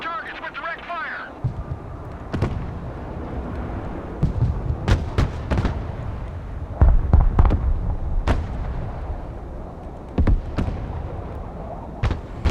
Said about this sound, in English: Artillery available, sir. Engaging targets with direct fire.